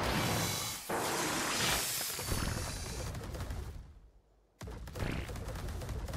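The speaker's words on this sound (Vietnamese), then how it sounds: "Kia bắn súng không có trúng con nào hết luôn." Dense gunfire in the survival video game Ark, continuous loud rapid shots and crackling bursts filling the scene, briefly cutting out near the end before resuming.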